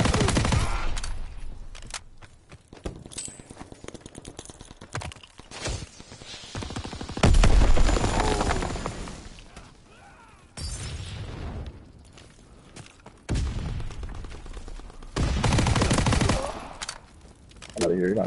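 Automatic weapon fire from a WW2 shooter, a Tommy gun and a machine pistol, rattles in rapid bursts with loud booms between them, while a voice talks over part of the action.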